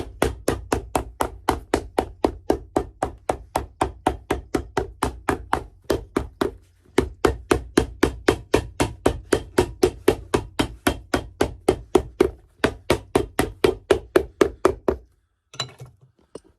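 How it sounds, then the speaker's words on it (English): Hammer striking a sole onto a Red Wing 1907 boot, a long run of sharp, evenly spaced close blows, about two or three per second, with one short pause midway and a few scraping sounds after the pounding stops. "hammering the two, the sole to the shoe"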